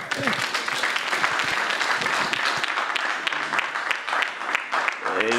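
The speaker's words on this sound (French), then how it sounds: "On nous va le Seigneur un plus gros applaudissement" Congregation at a men's church conference applauding and cheering, a dense wash of clapping with voices calling out over it, loud and continuous.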